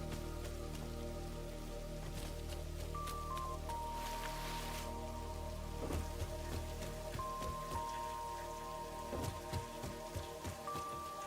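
Steady in-game rain patters on surfaces in Satisfactory, a constant soft hiss of drops with a few sharper taps, low and even throughout, with a faint tonal hum of background music or machinery underneath.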